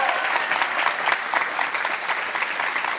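Warm, sustained applause from a television studio audience on a Brazilian talk show, dense steady clapping filling the whole stretch at fairly close range with no break.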